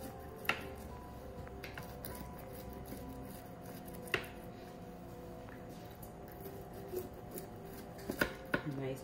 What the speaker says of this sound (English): So I have this pizza cutter and it says it's good for non-stick, but let's see if it can get through this crust.